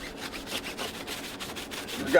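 A brush scrubs brake dust off a car wheel in quick, repeated rasping strokes, close and fairly quiet, with a brief louder knock at the end.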